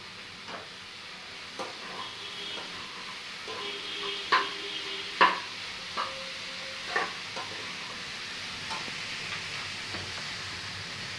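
Shredded cabbage stir-fried in a pan for chicken momo: a soft, steady sizzle broken by quiet scraping and clinking strokes of a spatula, close by and with no talking.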